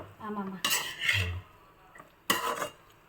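A metal spoon scrapes and clinks around inside a pot in two bursts of stirring ground paste into ash gourd curd curry, close and distinct, with a short pause between.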